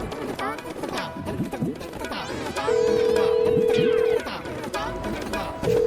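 A phone call to a friend goes out and a steady ringback tone sounds, one long beep then the start of another, over busy background music and voices.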